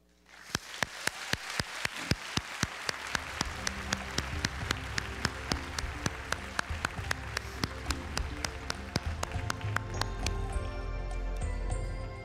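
Audience at a physics panel on holograms clapping, a dense sustained round of applause with a few sharp individual claps standing out throughout.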